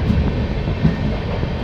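Padatik Express from New Alipurduar to Sealdah rushing past a skipped station near Dankuni, a loud, close, steady roar of the moving train with low rumbling and occasional heavier thumps.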